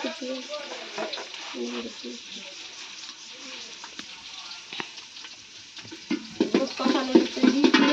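Bay leaves and garam masala fry in a pan, giving a crackling sizzle with scattered pops. It stays close and moderately loud, grows busier toward the end, and someone talks over it.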